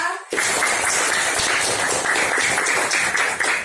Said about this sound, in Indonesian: Beri tepuk tangan dulu untuk kelompok bidara.